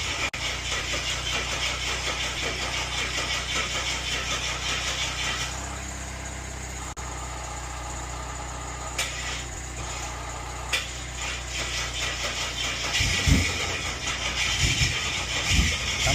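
A Ford Fairmont car engine cranks and turns over after a jump start, settling into a loud, rough mid-pitched idle with a few sharp knocks and revs toward the end.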